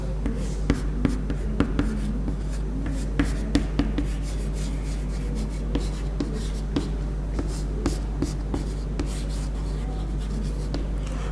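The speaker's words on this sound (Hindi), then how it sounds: "वो कौन कौन से मैं यहां पे लिख दे रहा हूं" Chalk or marker scratching on a board during a history lecture, in repeated short strokes and taps across the whole stretch over a steady low room hum, with no speech.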